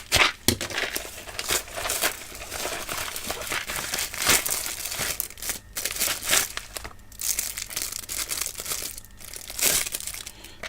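Mailbag parcel packaging is torn open and handled up close, giving a long run of loud, irregular crinkling, crumpling and ripping of plastic and paper wrapping, with no talking.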